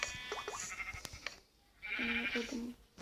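A sheep bleats twice, a short wavering bleat followed by a longer one, amid faint background sounds and a sharp click.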